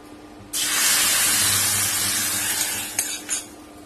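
A loud, sudden sizzle bursts in as hot tempering is poured into amla rasam, hissing steadily for a few seconds, with a couple of faint clinks near the end.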